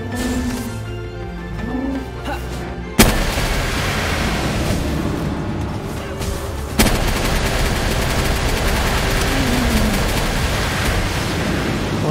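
Gunfire in the combat game Palworld: a continuous, loud wash of rapid shots and noisy blasts, with two abrupt louder bursts of firing partway through, no voices.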